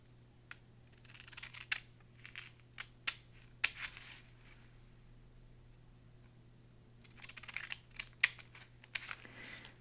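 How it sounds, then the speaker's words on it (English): Scissors cut a small paper rectangle out for a book cover, with soft crisp snips and paper crinkles that come in two close, quiet clusters separated by a lull. "this little rectangle needs to get cut out"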